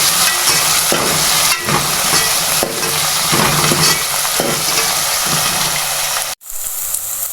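Ground green chili and ginger hit a hot pan of browned onions for a beef and potato shorba, giving a loud continuous sizzle with periodic scraping stirs, then a sudden brief drop before the frying resumes.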